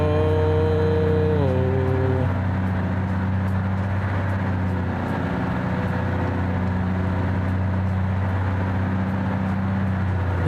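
A small, very loud bus engine in BeamNG drones at a constant heavy rumble, one brief pitch drop early on, then steady and close throughout with no talking.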